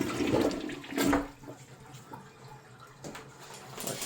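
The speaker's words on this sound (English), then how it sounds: "Toilet." A toilet in a house flushes, a loud rushing surge of water that fades into softer refilling trickles, close by and with no talking.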